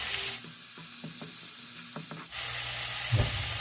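Onions sautéing in a pan with white onion and garlic, a steady sizzle under faint tonal kitchen clatter, then a louder, fuller frying hiss and a brief clank as more goes in.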